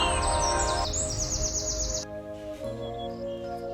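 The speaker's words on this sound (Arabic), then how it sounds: "بحب قوي اقعد اسمع صوت العصافير،" Bright, high chirps trill rapidly over a steady layered backdrop of music, with more scattered tweets later. The chirping fades partway through.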